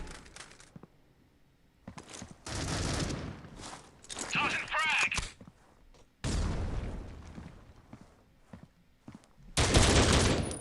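Sniper rifle shots in the Critical Ops tournament match ring out as sharp broadband bursts, several loud cracks spread across the stretch with quieter gaps of game ambience between them.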